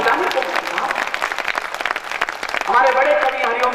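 An audience at a Hindi poetry gathering bursts into loud, sustained applause, a dense wash of clapping that carries on throughout. A voice comes in faintly near the end.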